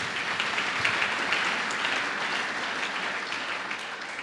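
A church congregation applauds steadily, a dense even wash of clapping from many hands at moderate level for a few seconds with no speech over it.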